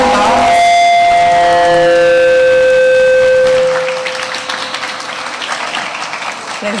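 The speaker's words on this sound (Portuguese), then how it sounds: "Uma salva de palmas." An audience in a hall applauds the President of Bolivia, with a sustained ringing tone sounding over the start before the clapping continues as a softer, even patter.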